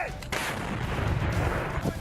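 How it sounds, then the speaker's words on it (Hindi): A Russian 2S7 Malka self-propelled howitzer fires a single heavy shot, a sudden loud blast followed by a long, booming rumble that fills the rest of the moment. "इस वीडियो में रूसी सेना 2S7 मालका नाम की इस तोप का इस्तेमाल करती दिखाई दे रही है।"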